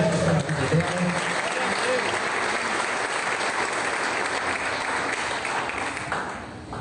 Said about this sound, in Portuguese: Aplausos para a vida dela.